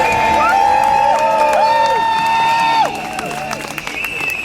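A rally crowd cheers and whoops outdoors, loud and close at first, then fades to a lower, scattered murmur of voices toward the end.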